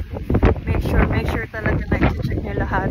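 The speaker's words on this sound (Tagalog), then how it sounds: "Grabe ang hangin." Strong wind buffets a boat in bad weather, a loud continuous roar of gusts battering the microphone, with people speaking excitedly over it.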